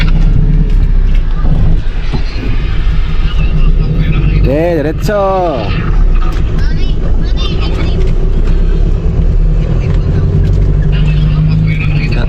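A car engine hums steadily while the vehicle drives and swings around to turn, a low continuous drone under people talking throughout.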